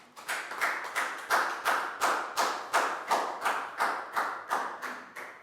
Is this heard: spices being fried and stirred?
no